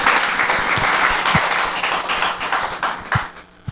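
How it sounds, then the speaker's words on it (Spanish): A church congregation claps and applauds loudly for several seconds during a Spanish-language evening service, with dense, steady clapping. "Dele ese fuerte aplauso al Señor."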